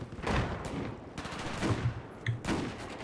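Bursts of gunfire in a Battlefield 4 match, several loud close shots and short volleys in quick irregular succession over a busy battle background, with no voices.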